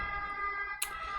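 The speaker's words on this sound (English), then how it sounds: "Sorry for the siren." An emergency vehicle siren passes outside, a steady wailing tone with bright harmonics heard at moderate distance, ending in a sharp click.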